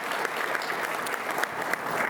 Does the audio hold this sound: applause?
yes